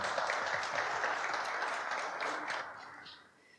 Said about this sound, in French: Il faut applaudir, s'il vous plaît.